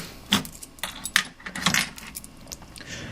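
A set of keys jangles and clinks in several quick metallic bursts, close and fairly loud, with no talking.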